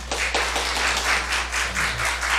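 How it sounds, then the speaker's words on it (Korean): A church congregation claps together in a steady, rhythmic unison beat, about eight even claps ringing through the hall over a low electrical hum. "박수 한번 치겠습니다."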